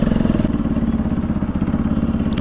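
A motorcycle engine runs steadily nearby, its low rhythmic pulsing and rattling loud and continuous with no voices.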